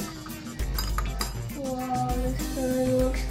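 Yellow and blue food coloring stirred into water in a glass, producing clinking and tapping of a utensil against the container with a soft wet ringing tone, close and continuous.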